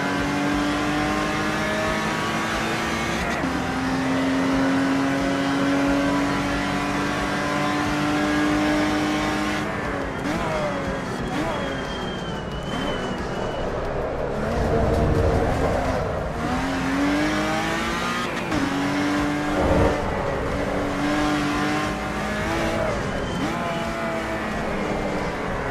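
A Lotus Exige V6 Cup race car's engine loud and continuous in a racing game, revving up and down through gear changes with rising and falling harmonic tones, sustained throughout without pause.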